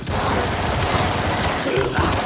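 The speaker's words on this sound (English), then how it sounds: "Target my marker. Hammer of Dawn." Hammer of Dawn orbital weapon strike in the Gears 5 video game, a loud continuous rattling, drilling roar with a brief dip near the end, with a voice talking over it.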